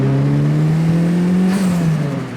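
A Toyota Celica GT-S turbo fitted with a TRD exhaust accelerates, its loud, close engine note holding steady and climbing slightly in pitch over a couple of seconds, with no talking.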